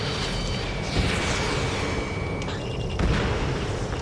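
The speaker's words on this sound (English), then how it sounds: "Missile away." A missile launches from a fighter jet in Ace Combat 7: Skies Unknown, a dense roaring rush with two sharper bursts about two seconds apart, loud and close, with no voices.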